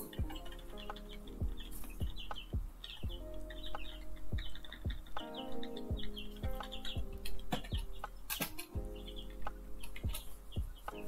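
Five real chickens nearby cluck in repeated short, uneven bursts, fairly close but moderately quiet, with occasional sharper calls mixed over a low steady background hum.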